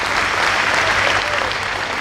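A live audience bursts into steady, dense applause at a poetry recital in Dhanbad, the clapping filling the whole hall and holding without a break.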